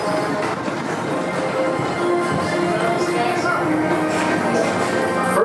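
A Tomorrowland Transit Authority PeopleMover train at Disney World rolls steadily along its track with a constant rumble and faint rhythmic clatter, close and sustained throughout.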